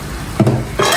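Food is stirred in a hot pan with a sizzling, frying background, two distinct scraping strokes standing out over the steady sizzle, close and clear with no voices.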